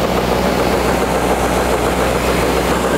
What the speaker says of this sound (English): I'm gonna go ahead and take this over to the wide belt sander and give it a nice sand.